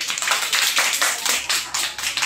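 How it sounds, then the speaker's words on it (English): Students clapping in a classroom, a short, loud run of quick, fairly even claps from a small group close by, with no talk. "Clap for him."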